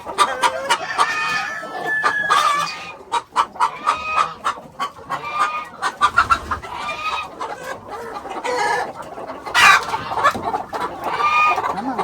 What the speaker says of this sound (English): Them old hens go broody.